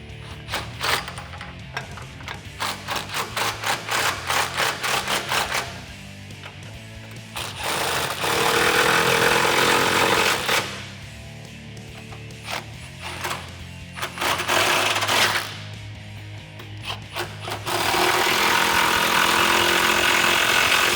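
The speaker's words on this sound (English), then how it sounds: "tighten those bolts down on all four corners" A power tool with a 15mm socket drives suspension bolts on a 2011-2020 Dodge Challenger R/T fitted with an Eibach Pro-Plus kit, giving rapid hammering ratchet bursts alternating with longer continuous whirring runs, loud and close.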